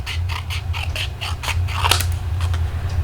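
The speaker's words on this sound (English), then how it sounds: "I just want to just kind of cut that straight across." Scissors cut through paper or card with a quick run of about a dozen crisp, close snips in a steady rhythm, no voices.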